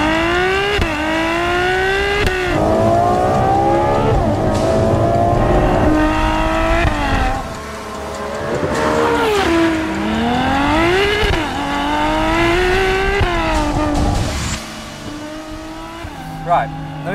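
A Ferrari F12 TDF's 6.3-litre naturally aspirated V12 howls loudly while being driven, its pitch repeatedly climbing under hard acceleration and dropping at gear changes, with a brief easing around the middle.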